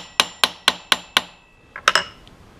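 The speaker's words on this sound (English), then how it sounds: "I'm using a ball peen on this" Ball peen hammer tapping a loose parallel down to seat it on a mill during a DRO installation: five sharp, evenly spaced metallic taps, a pause, then two or three quicker lighter taps, close and clear with no talk.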